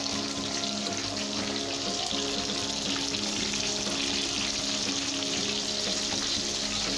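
Chapli kababs sizzle steadily on a hot tawa, a continuous close, even frying hiss with faint bubbling crackle running throughout, no voices over it.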